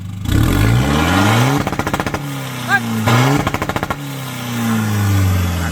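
A Chevrolet diesel pickup with an aftermarket exhaust revs hard and loud, the engine climbing and falling in pitch, broken by two bursts of rapid machine-gun-like exhaust crackle on the rev limiter, close up.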